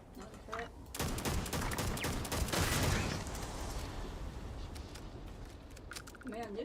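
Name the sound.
turret gunfire in Starfield video game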